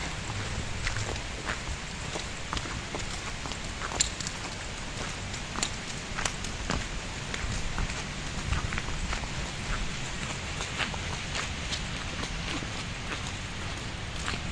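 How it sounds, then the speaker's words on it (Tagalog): Heavy rain pours steadily and densely, a constant close roar with scattered sharper drops and taps throughout, no voices. "Grabe yung ulan, oh."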